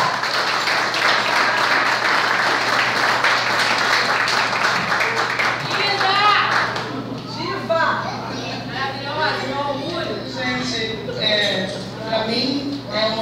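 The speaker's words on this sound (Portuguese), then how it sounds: "Senhoras e senhores, uma salva de palmas para Bombom Lessa." Audience applause at an induction ceremony for a women's directorate in Maricá fills the first six seconds with dense clapping. Crowd noise and speech carry on as it fades.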